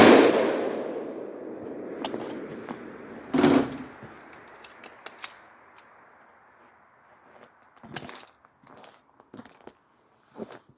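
A 7.62x39 AR-47 rifle with a 7.5-inch barrel and a Jmac FRD 30S cone flash reduction device fires close and loud: a sharp report opens the clip, a second blast follows a few seconds later, and each decays into a reverberant tail. No talking.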